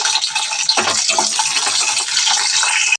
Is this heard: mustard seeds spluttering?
yes